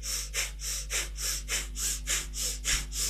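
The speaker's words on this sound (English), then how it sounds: "So pant and breathe. Use your breath of fire." Rapid rhythmic panting of breath of fire during a Kundalini yoga kriya for stress, about ten sharp even exhalations pulsing steadily, fairly quiet and close with no talking.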